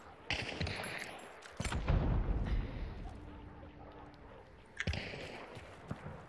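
Gunfire in Hunt: Showdown, a three-person team match with bursts of shots and heavy booming reports scattered across the clip, some close and loud, others fainter, with bits of talk mixed in.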